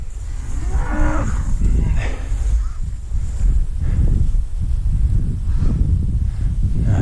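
Cattle and calves moo loudly and close by as they are herded on a farm, with steady wind noise buffeting the microphone throughout.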